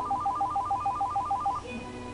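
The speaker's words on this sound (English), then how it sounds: "The phone's for you." A phone ringtone plays a quick alternating two-note electronic pattern, loud and close, for about a second and a half before stopping, with faint room noise after and no talk.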